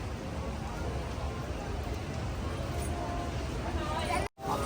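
Rain falls steadily on a narrow street in Seoul while water drips from above, making a dense, continuous hiss that is close and fairly loud, with faint crowd babble underneath and a brief dropout near the end.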